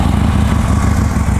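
Harley-Davidson Road King motorcycle with factory exhaust running, a steady, loud low-pitched engine rumble close by, continuous and even with no voices over it.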